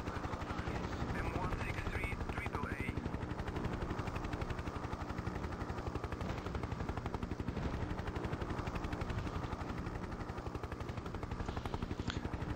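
In the 1996 helicopter game Hind, a Hind gunship's turret gun fires in a steady rapid stream over the constant thrum of rotors, a dense mechanical rattle that runs unbroken throughout.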